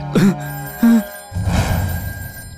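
A telephone in a movie scene rings twice in short electronic bursts, followed by a rustling noisy stretch, loud and close.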